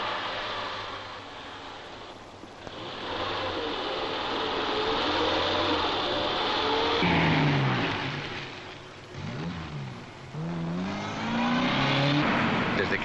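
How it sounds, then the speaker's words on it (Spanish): Car engine started and driven off onto a highway, a sustained engine roar with rising and falling revs as it accelerates and shifts, fairly loud and without speech. "Ponga el coche en marcha y salga a la autopista."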